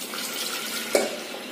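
Water running from a tap into a vessel for a pressure cooker, measuring a cup of water for chana dal, a steady splashing flow with one brief louder splash, no voices.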